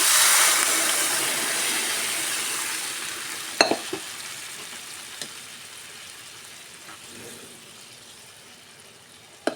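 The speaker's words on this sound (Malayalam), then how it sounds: "ഇനി വേപ്പിൻ്റെ ലട ഇനി നമ്മളെ പരിപ്പ് കറി ഇതിലേക്ക് ഒഴിച്ച് കൊടുക്കും" Dal curry poured into hot oil tempered with browned onion and curry leaves, giving a steady loud sizzle and frying hiss that slowly fades, with a few sharp clinks and a final knock, and no talking.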